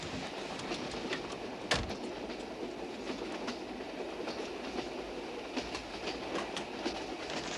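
Train rolling along the rails in a 1979 film, a continuous rumble with rhythmic clickety-clack and one sharp clank, heard from inside a carriage at steady moderate volume.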